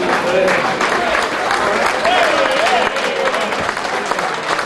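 Audience applause at a London night out for a former underworld figure, a dense sustained wash of clapping filling the room, with voices and cheers mixed in throughout.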